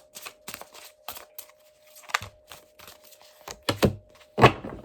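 Tarot cards handled and pulled from a deck, a run of close dry taps, flicks and slides with a louder card slap near the end, no speech.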